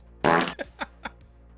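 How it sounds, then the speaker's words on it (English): A fart sound effect redeemed during a livestream: one loud, long, sputtering blast followed by three shorter puffs, close and clear with no talk over it. "Or fart sounds."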